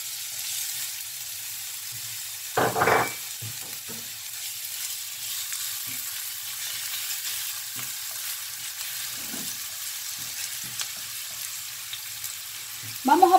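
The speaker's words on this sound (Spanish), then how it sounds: "Vamos a poner nuestra cebolla con el ajo." Onion and garlic fry in oil in a pan for Cuban-style fried chickpeas, with a soft, steady sizzle broken by a few clattering stir or scrape sounds.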